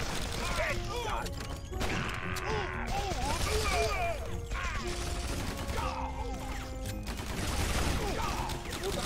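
Rapid gunfire rattles through a chaotic fight in the video game Guns Gore & Cannoli 2, shots layered with clattering mechanical effects and a game voice over a busy soundtrack.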